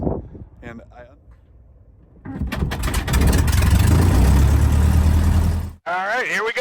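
A 1941 Aeronca Super Chief's engine runs up loud and close before takeoff, a steady mid-pitched drone after a quieter opening, then cuts off briefly near the end.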